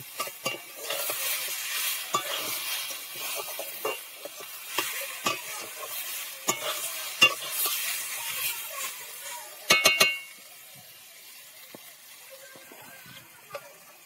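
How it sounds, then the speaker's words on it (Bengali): Kohlrabi, eggplant and potato pieces sizzling with turmeric in a pan, steady close frying hiss broken by frequent scraping stirs, a brief clattering burst near the end, then quieter sizzling alone. "হলুদ দিয়ে সবজিকে ভালো করে কষিয়ে নেব আরও 5 থেকে 7 মিনিট।"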